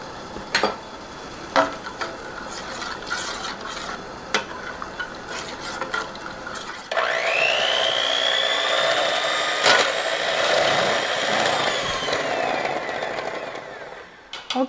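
A lemon filling thickening in a pot is stirred with an electric mixer and a spoon, with scattered light scraping and clinking that gives way to a steady, fairly loud whirring drone from about the midpoint to the end.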